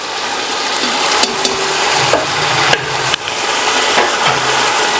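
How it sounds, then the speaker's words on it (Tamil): Tomatoes sauté in a pan during biryani preparation, giving a steady soft sizzle broken by a few sharp scrapes and taps of a stirring utensil. "இந்த ஸ்டேஜ் வரையும் நம்ம தக்காளி வதக்கினா போதும்"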